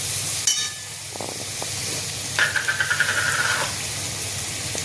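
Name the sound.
egg bhurji frying and sizzling in a pan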